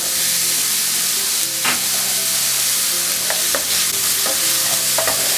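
Butter sizzles steadily in a hot pan over medium heat while cooking seafood lasagna, a constant crackling hiss punctuated by a few sharper pops and scrapes of stirring, close and fairly loud with no talking.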